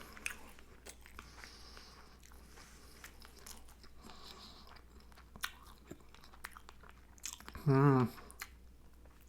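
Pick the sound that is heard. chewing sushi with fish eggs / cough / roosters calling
chewing sushi with fish eggs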